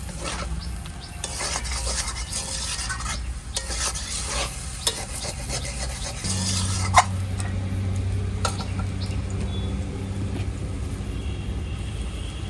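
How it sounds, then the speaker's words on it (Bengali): Masala spice paste being stirred in a pan with a splash of water while cooking a jackfruit and prawn curry: a steady close-up scraping and stirring under a continuous sizzle, with no talk. "মশলাটাকে ভালো করে এখন নাড়িয়ে নিতে হবে।"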